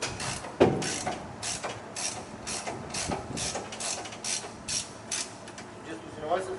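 Ratchet clamps on a mobile shower trailer are loosened with a rapid, rhythmic series of clicking ratchet strokes, fairly faint and close, with a sharper clack at the start.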